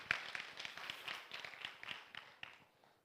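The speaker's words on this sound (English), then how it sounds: "can we just give a round of applause for everybody who did the cooking and everything got involved in it" Scattered, fairly light clapping from a church gathering at a motorcycle ministry event, with separate claps and taps rather than a dense roar, fading toward the end.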